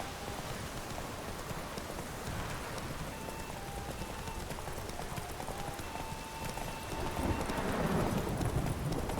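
Roach the horse trots in The Witcher 3: Wild Hunt, a steady clip-clop of hooves running under a dense wash of rain and ambient noise that swells louder toward the end.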